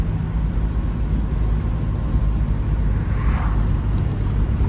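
A 1958 Jaguar XK 150 engine drones steadily from inside the moving car, a low continuous rumble with a brief throttle blip rising near the end, heard alone without talk.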